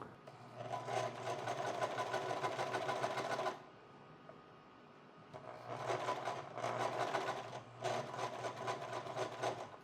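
A sewing machine stitches a seam on a button-up shirt near the opening, running in two steady bursts of rapid mechanical clatter with a short quiet pause between them, close and alone.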